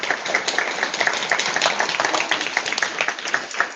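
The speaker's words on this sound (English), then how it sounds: "Can we have a big round of applause for our speakers?" Audience applause at a product management meetup in Auckland, a dense crowd clapping steadily and fairly close for the whole stretch.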